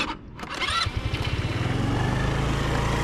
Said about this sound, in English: Fires straight up like a brand new bike.